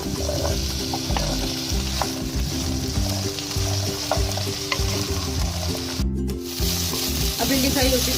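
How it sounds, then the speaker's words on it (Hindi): Okra frying in oil in a pan, a loud continuous sizzle with scraping stirs throughout, briefly interrupted by a short sharp clatter near the end. "अब भिंडी फ्राई हो चुकी है"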